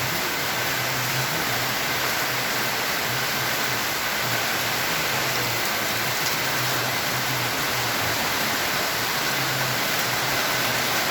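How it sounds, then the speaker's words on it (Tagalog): Dense, steady rain pours down continuously at night, a broad hiss filling the whole stretch with a low rumble underneath and no voices. "Malakas ang buhos ng ulan."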